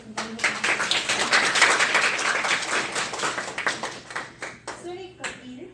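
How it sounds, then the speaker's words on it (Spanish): Applause from an audience at a panel on women in mining, dense clapping for about four seconds that thins into scattered claps at the end, with voices talking underneath. "Las recibimos con un fuerte aplauso."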